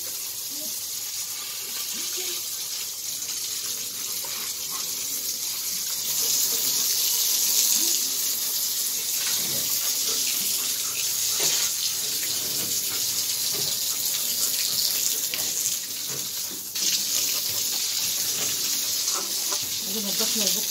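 Tap water runs steadily into a sink while a pet's box is washed out, a continuous close splashing wash with occasional clatter and louder surges, no talk heard.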